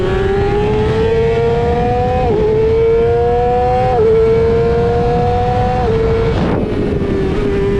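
Racing motorcycle at the Podium Club track accelerating uphill, its engine a loud, close, sustained whine rising through several gear shifts, with brief dips in pitch between each shift and wind rush over the microphone.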